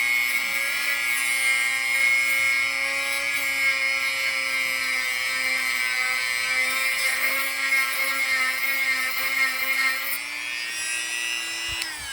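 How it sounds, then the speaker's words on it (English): A steady, continuous grinding tone as a misshapen metal ring is ground down, holding an even pitch for the whole stretch and tapering slightly at the end, with no talk. "So, alright, just grinding away."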